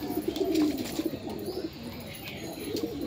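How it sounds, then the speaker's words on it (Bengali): Pigeons make soft, low cooing calls in a few close, repeated bursts over a quiet background. "এখানে কিছু নতুন পায়রাগুলো আছে আর কিছু বাড়ির পুরানোগুলো আছে"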